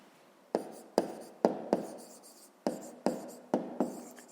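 Pen or pencil writing out the solution to a fifth-grade math exercise, heard as a series of about eight short, close scratching strokes spaced irregularly, each starting sharply and trailing off, with no talking.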